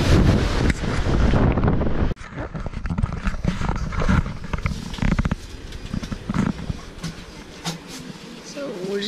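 Gusty wind roars against the microphone, loud at first and then easing into uneven buffeting, with people talking underneath.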